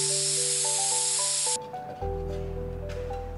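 After a short run of electronic beeps, the water spray system of a commercial hydroponic fodder container starts a steady mechanical hiss that continues with a low hum underneath.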